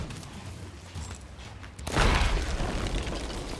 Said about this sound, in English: the Sea of Thieves explosion sound on the soundboard, just that crack